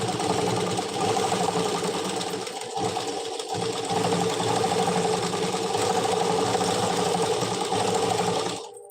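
A sewing machine runs steadily, stitching the hem of a Punjabi dress pyjama with canvas at the leg opening, a dense continuous whir close by that briefly slows and cuts off at the end.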